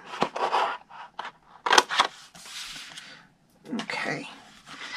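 Scissors snipping through cardstock along a score line, a series of close crisp cuts and crunchy scrapes in irregular bursts separated by short pauses.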